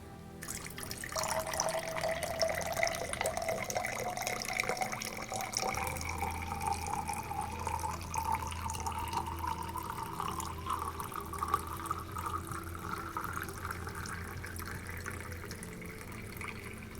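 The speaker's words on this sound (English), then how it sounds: "Let me pour into my cup." Water pours steadily into a cup during a casual ASMR stream, a continuous trickling and splashing that rises gradually in pitch as the cup fills, close and fairly quiet, with no talking over it.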